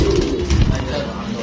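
Pigeons coo at a large pigeon farm in Natore, soft low throaty calls rising and falling close by, mixed with people talking throughout.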